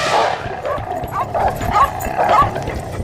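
Dogs hunting a large animal, barking and yipping in quick, excited bursts with whimpering tones, loud and close with other noise underneath.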